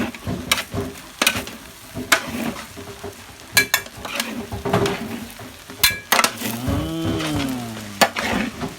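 Chinese sausage is stir-fried with rice in a big wok, with steady sizzling, scraping spatula strokes and metallic clanks against the pan, while someone talks and briefly hums over the cooking.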